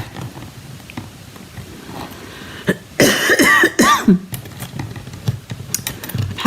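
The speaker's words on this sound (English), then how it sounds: "I've had this cough for a little while now," A burst of harsh coughing, several loud hacks in quick succession, breaking through quieter background rustling and faint talk.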